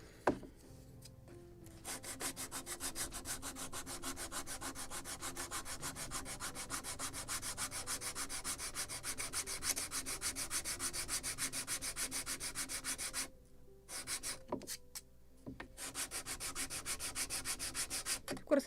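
Wooden deck planks on a Gunboat Philadelphia (1776) model ship kit being hand-sanded, fast rhythmic close rubbing strokes continuing for many seconds with two brief pauses.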